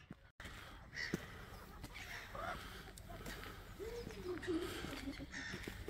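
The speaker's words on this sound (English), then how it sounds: "I do not know what kind of birds you are" Small birds call faintly outdoors in a little Russian town among green trees, with short scattered chirps and a few warbling notes over a quiet, breezy background.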